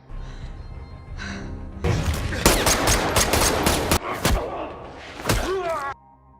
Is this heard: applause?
no